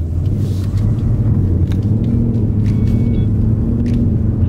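A 2020 Ford Mustang with an automatic transmission pulls away under acceleration, its engine a steady, loud low rumble with rising tonal bands, close to the microphone, with no talk over it.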